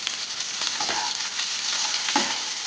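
Chopped onions hitting hot white oil in a kadai with whole black peppercorns and dried red chilli, a lively close sizzle with crackles and a few stirring scrapes over nearly three seconds.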